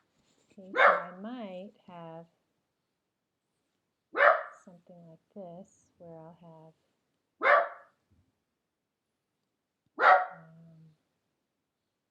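A pet dog barks near the microphone, four separate bursts of loud barks with yips and whimpering tails spaced a few seconds apart, indoors during a soil-contamination lab set-up, with no talk between the barks.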